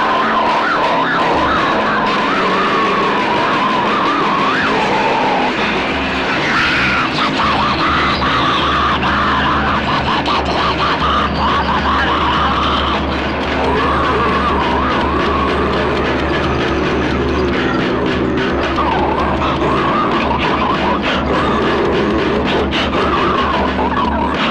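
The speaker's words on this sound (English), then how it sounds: "this one's a bit more avant-garde and kind of weird sounding, gore grindy sounding" Avant-garde gore grind noise piece, a dense, continuous wall of harsh distorted noise with a steady low drone and shifting grinding textures at constant loud level throughout, no vocals.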